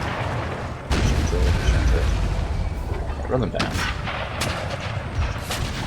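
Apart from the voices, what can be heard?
cannon artillery fire in Empire Total War video game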